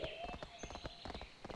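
Horse hooves clip-clop in World of Warcraft, a quick, even rhythm of close, soft hoofbeats, with faint voices in the background.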